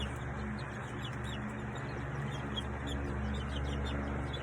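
Small chicks in a makeshift brooder, a converted American Bully dog house, peck at grass while peeping softly over a steady low hum, their chirps faint and continuous throughout.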